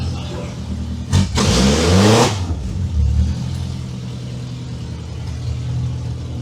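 Toyota van engine revving hard while driving, with a loud burst of acceleration and tire spin that rises then settles back to a steady, nearby idle-like drone.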